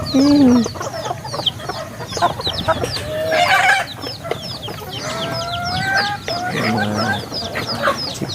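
Chickens and small chicks on a farm, with overlapping clucks and high chick peeps throughout, plus a louder squawk or two, close and busy, with a voice speaking faintly now and then.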